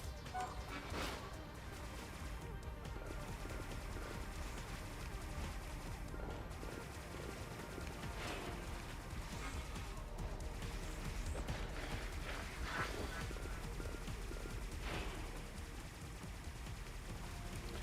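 Video-game gunfire from assorted weapons on an Xbox 360, repeated loud shots and bursts with crashing impacts over a dense, continuous game soundtrack throughout.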